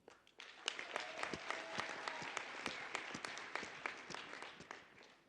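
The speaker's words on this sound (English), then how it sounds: "So let's give a big applause for the family and community." Applause for family and community at a health sciences faculty ceremony, a fairly faint crowd of clappers with distinct individual claps cracking out over the steady patter.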